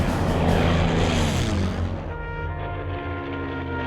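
A World War II P-51 Mustang propeller fighter roars loudly overhead, its engine drone sliding down in pitch as it passes and recedes.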